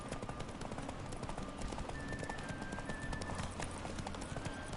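Galloping horse hooves beat rapidly and continuously in The Witcher 3, a busy clip-clop rhythm mixed with game ambience and a faint tonal sound in the background.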